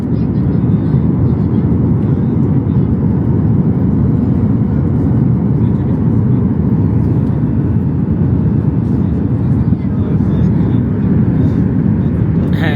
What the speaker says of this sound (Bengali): এখনই নিচে নামতে যাচ্ছে বিমানটি